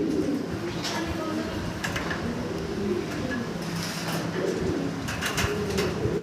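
Pigeons coo on a farm where they are kept in cages, giving a dense, continuous murmur of low coos under steady background noise, with occasional faint clicks.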